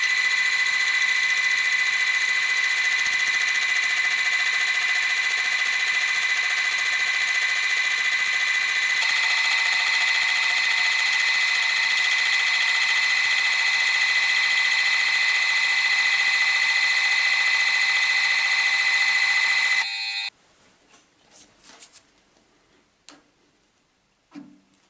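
A metal shaper machine cutting gear teeth runs steadily and loudly for about twenty seconds with a continuous mechanical drone and faint ticking, then stops abruptly, leaving a few quiet clicks and handling sounds.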